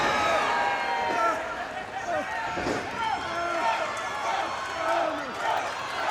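Pro wrestling crowd in Huntsville cheering during a match, a loud roar that dips slightly, with scattered shouts and ring impacts over it, under a commentator's voice.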